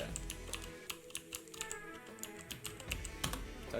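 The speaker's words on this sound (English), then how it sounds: "We have a touch typing moment here." Steady touch typing on a computer keyboard: quick, even key clicks in a continuous close-up patter, with no voices over it.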